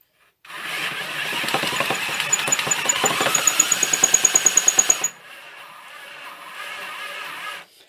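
A homemade drill-powered drum sander whirs loudly with a rapid rhythmic knocking for several seconds, then drops to a quieter steady hum.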